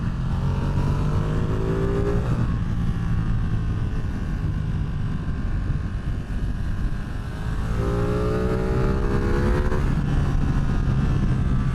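A motorcycle engine revs up and down twice, loud and close, with rising harmonic whines over steady low rumble.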